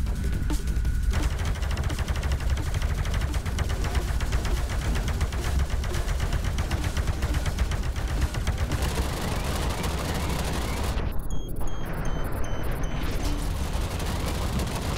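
Rapid laser blaster fire from the VR shooter Space Pirate Trainer, a dense steady stream of zapping shots over constant noisy background, with a brief sharper burst of higher pitched blasts near the end.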